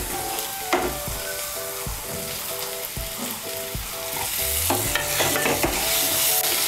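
Two medium tomatoes, finely chopped, go into a frying pan for a Bengali okra sabji and get stirred, a constant sizzle under repeated sharp spoon knocks and scrapes against the pan.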